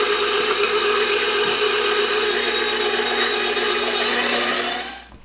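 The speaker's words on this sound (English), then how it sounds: "I'm gonna start turning it on and just let it mix." A stand mixer kneads pizza dough with flour, giving a steady, loud motor whir with a constant hum that runs evenly and then cuts off at the end.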